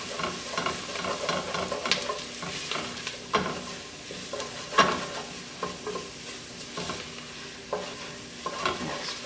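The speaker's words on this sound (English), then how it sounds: "Mix it around till it's nice and smooth and blended." Flour being stirred into softened onion and celery in a pot for potato soup, a steady scraping and stirring with soft sizzle underneath and occasional utensil knocks, close and moderately loud, no talking.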